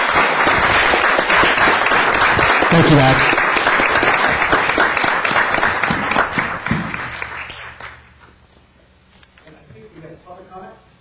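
Loud, sustained audience applause for a speaker at a Youth Advisory Council event, broad clapping that fades toward the end as a voice briefly speaks.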